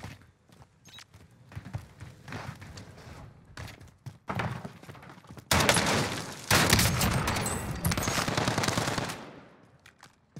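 Automatic rifle fire in the shooter Call of Duty Modern Warfare Warzone, scattered single shots and short bursts that build into long, loud, close sustained volleys before tailing off.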